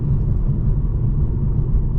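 Low, steady road roar from winter tires on a 2018 Mercedes-Benz C43 AMG while driving, a continuous droning rumble heard from inside the cabin with no talk.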